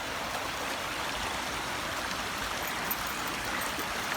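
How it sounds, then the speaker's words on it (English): A creek running past a riverside campsite gives a steady, close rush of flowing water, an even broadband burble with no pauses and no voices. "that's the creek that goes through by our campsite"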